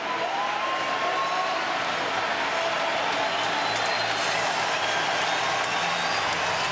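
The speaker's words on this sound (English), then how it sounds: "As the crowd stand and cheer, a grand entrance from both sides" Stadium crowd standing and cheering as the Australia and Japan teams run out for a 2007 Rugby World Cup pool match: a dense, constant roar of distant cheering and applause fills the whole stretch, steady and unbroken.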